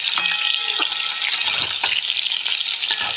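Vegetables fry in hot oil with a constant, dense sizzle close up, and a few soft scrapes of stirring come through the crackle.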